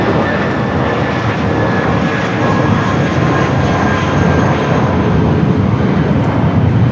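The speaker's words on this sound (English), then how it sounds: "That is Spirit Airlines 1641 taking off to Las Vegas on the A320" Spirit Airlines Airbus A320 taking off at LAX bound for Las Vegas, a loud, close and constant jet engine roar filling the stretch with a thin whine on top.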